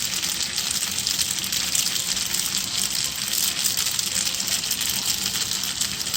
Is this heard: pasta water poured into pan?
yes